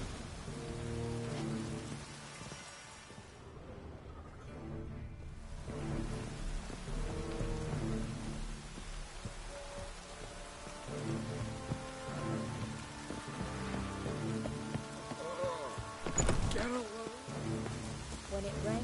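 Steady rain falling with distant rumbles of thunder in The Witcher 3, a continuous hiss throughout with a brief sharper crack near the end.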